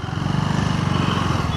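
A KTM Duke 390 Gen 3 single-cylinder motorcycle engine revs hard and close, a loud, rapid pulsing thrum that holds steady throughout the brief burst.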